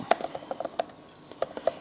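Keystrokes on a computer keyboard come in short bursts of close, crisp clicks with a brief pause in the middle, heard alone without talk.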